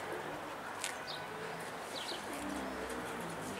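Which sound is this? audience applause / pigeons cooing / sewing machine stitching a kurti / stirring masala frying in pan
pigeons cooing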